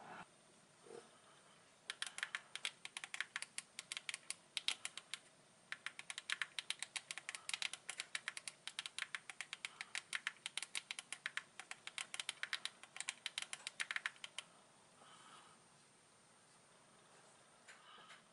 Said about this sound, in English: I type about 60 words per minute when I'm just using the virtual keyboard.